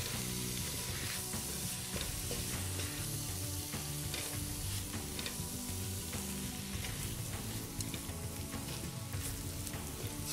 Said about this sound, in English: Just saute this for about 5 more minutes.